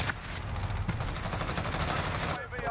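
Shooter video game gunfire, a continuous dense rattle of rapid shots filling the whole moment at steady loudness, with game voices mixed underneath.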